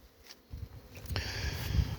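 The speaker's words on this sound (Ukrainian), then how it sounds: "Зараз літає вся бджола" Faint insect buzzing from honeybees flying at a hive in early March rises into a steady drone, with rustling low noise underneath and no voices.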